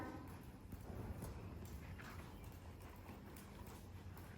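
Hooves of a horse during a riding lesson thud in a rhythmic clip-clop across the ground, faint and fairly distant beneath a constant background rumble.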